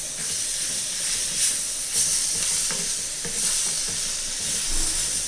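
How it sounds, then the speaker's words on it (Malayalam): Chopped tomato sautés in spice masala for a tuna fish curry, a steady hiss and sizzle with periodic scraping stirs of a spoon in the pan, close and moderately loud. "തക്കാളിയും കൂടെ നമുക്കൊന്ന് വാട്ടിയെടുക്കാം."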